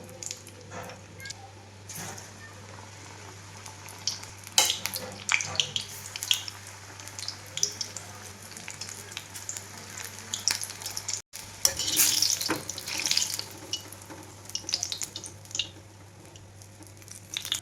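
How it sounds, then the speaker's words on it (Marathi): Batter-coated chillies deep fry in hot oil in a kadhai for bhaji, giving a bubbling sizzle punctuated by splashy bursts as pieces drop in and are stirred, over a low steady hum. "आता ही मिरची ना मी पिठाची बुडवलेली आहे ती अशी तेलामध्ये टाकून घेते"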